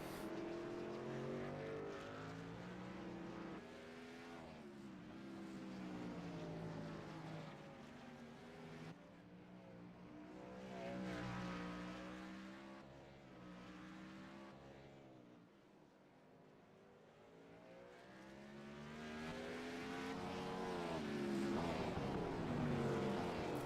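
Stock-style race cars circle the Sonoma road course on the final lap, engines roaring close by in a continuous, rising and falling drone as they pass through the corners.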